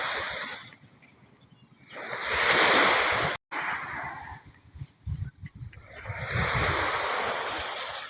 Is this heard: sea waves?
yes